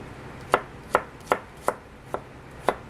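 Six sharp knife chops on ginger and garlic, spaced at a slow, even rhythm and close by, each a crisp thud on a cutting board with no talk over them.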